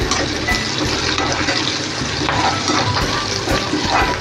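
Finely chopped onion dropped into plenty of hot oil in a pan for a bombil (Bombay duck) curry, giving a loud, steady, dense sizzle that fills the whole stretch without pause.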